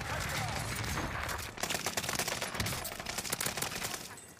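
Rapid bursts of gunfire crackle through a Call of Duty Warzone match on Rebirth Island, dense and continuous over a steady game-noise bed, with a player talking over the shooting.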